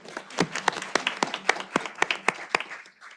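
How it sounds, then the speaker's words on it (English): A small group claps for a few seconds, scattered sharp claps at an uneven pace that thin out and fade. "So we could give her a round of applause."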